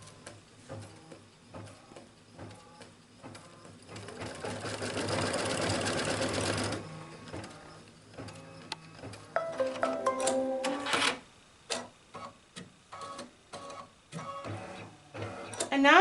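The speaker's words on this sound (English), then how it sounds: "Going back to the machine, and we're going to stitch." A sewing machine stitches layers of a poinsettia espadrille upper, with a steady whirring run, then short stop-start bursts and clicks nearby, under faint background sound.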